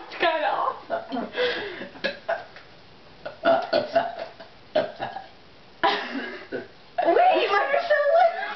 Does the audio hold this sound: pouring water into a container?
no